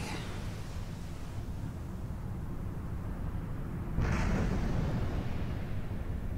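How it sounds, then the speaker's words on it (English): A rumbling blast as Atlantis explodes in the 1996 Tomb Raider game, a sudden deep boom breaking through a low continuous roar and trailing off into noise. "Wow, I mean that really fucking exploded."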